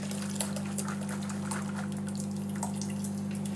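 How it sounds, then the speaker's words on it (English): Hot water is strained off from a Tupperware Eco Plus clear bowl into a kitchen sink, a steady gushing splash with a few small drips and clinks. "We just pop that straight into the kitchen sink. And we strain that water off."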